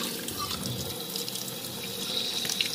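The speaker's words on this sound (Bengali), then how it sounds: "আমি পটল কেটে নিয়েছি। এবার এটাকে ভালো করে ধুয়ে নিতে হবে।" Cut pointed gourd being washed under a running kitchen tap, a steady splashing water stream with small clinks and shifting as the pieces are rinsed, close and alone.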